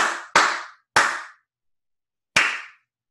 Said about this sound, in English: I'm going to do a little clapping, clearing there.